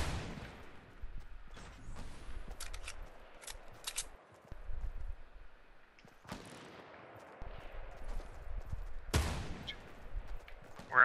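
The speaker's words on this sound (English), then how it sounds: "Someone's shooting a sniper rifle west." Sniper rifle fire in a video game: a few separate, distant cracks spaced several seconds apart, with lighter footsteps and mechanical shuffling between the shots.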